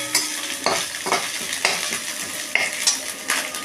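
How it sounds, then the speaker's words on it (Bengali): Ginger fried briefly in a pan while being stirred, repeated scraping strokes of a spoon roughly every half second over a bright, crackling sizzle, close and fairly loud. "আদাটাকে একটুখানি জাস্ট ভাজবো"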